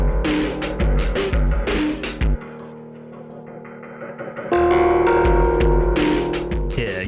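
Distorted industrial percussion from the Silent Hill 3 video game soundtrack: heavy, pounding, droning beats that drop out into a low humming lull midway, then return loud and dense.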